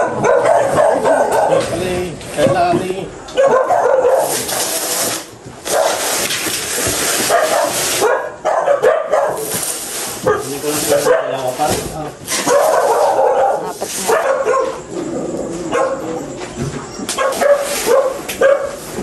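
A dog barks and yips in short bursts at a home during a balikbayan box delivery, interspersed with whimpers while people talk over and between the barks.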